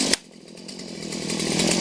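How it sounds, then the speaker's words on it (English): A Stihl MS 170 chainsaw cuts firewood, opening with a sharp bite and then settling into a steady, loud whine that slowly rises in intensity, close by and heard alone. "Nice little chainsaw right here."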